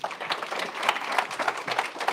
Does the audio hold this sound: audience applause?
yes